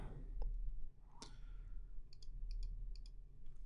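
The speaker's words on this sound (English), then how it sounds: "now if we command click on" Computer mouse clicks on an audio meter in a music mixing session, a few quiet, sharp clicks spaced across a few seconds over low background hiss.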